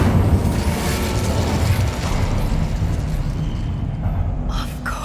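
A fire spell cast in a wizarding video game gives a loud, sustained roaring burst of flame that fills the whole stretch, thinning slightly toward the end with a few sharp crackles.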